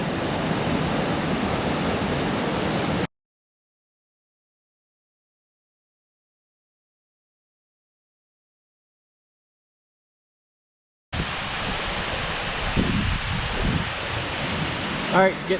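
A waterfall in freezing 18-degree weather roaring as a steady, close, loud rush of water, cut by a long silent gap before resuming.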